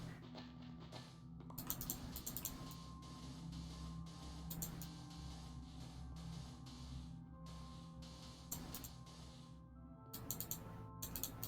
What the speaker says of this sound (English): my mouse does pick up my clicking sounds